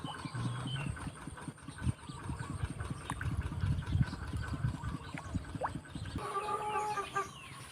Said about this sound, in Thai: อันนี้ ไก่พันไข่ครับ